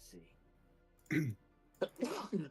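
A single sharp sneeze bursts out amid quiet voices around a tabletop role-playing game, followed by brief speech.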